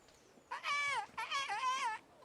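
A voice mimics birdsong in two high, warbling, whistled phrases separated by a short gap. It comes from a character in the medieval role-playing game Kingdom Come Deliverance and sounds fairly clear against quiet surroundings.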